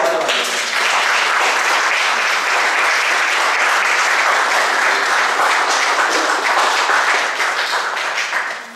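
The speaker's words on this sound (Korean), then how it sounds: "박수 환영합니다." Church congregation applauding during a Sunday worship service, a dense, steady round of clapping from many hands that carries on for several seconds and then tapers off at the end.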